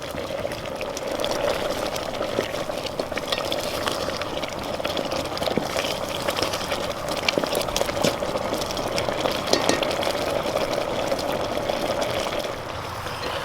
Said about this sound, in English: you let this come to a boil, and you keep stirring it until the rice has absorbed most of the water